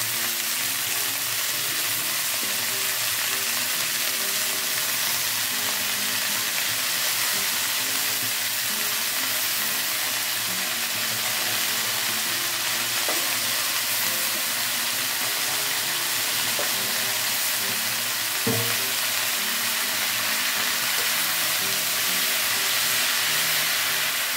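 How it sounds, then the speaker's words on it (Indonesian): Long beans and young papaya fry in a pan with a loud, steady sizzle and hiss, broken by a few soft knocks of stirring, continuous and close throughout. "Kita masak sampai layu ya, sambil kita aduk-aduk."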